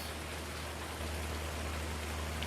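Steady rain falling at night in the Farming Simulator 19 game, an even, continuous hiss with a low rumble underneath and no voices.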